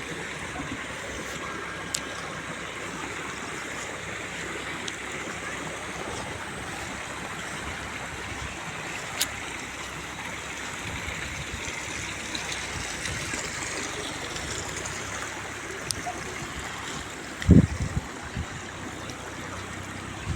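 Water flowing into a field channel in the hills, a steady broadband rush and trickle running continuously, with an occasional faint click and a brief thump near the end.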